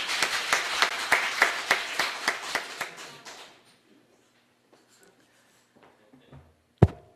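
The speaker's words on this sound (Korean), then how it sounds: "박수." A small church congregation claps in a steady rhythm for a few seconds, then the applause fades into near silence, broken by a sharp thump near the end.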